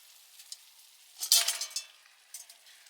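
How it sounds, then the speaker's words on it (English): Onions and chorizo are dropped into a hot pan over a wood fire in a woodland camp, setting off a short, bright burst of sizzling that quickly settles into a faint crackle. "Let's chuck in our onions and chorizo"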